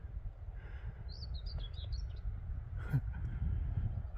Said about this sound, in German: Eine Amsel.